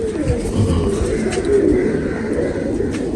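Pigeon gifted from Dubai cooing close by in a loft, a steady low burbling coo repeating throughout over background bird noise.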